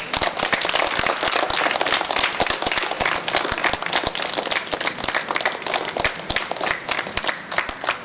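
An audience claps at a karate day celebration, with dense, continuous applause of many hands that stays loud and even from start to finish.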